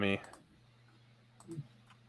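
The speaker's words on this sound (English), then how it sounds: "I hear you clicking it there." A few faint clicks from a presentation clicker changing slides, one near the start and another about a second later, set against quiet room hum.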